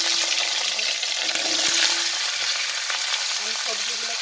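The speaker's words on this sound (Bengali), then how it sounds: "আমি সবজিগুলোকে একসঙ্গে আমি ভেজে নেব।" Mixed vegetables for a vegetarian panchratna curry sizzle and fry together in a pan, a steady close hiss with brief stirring scrapes and no talk.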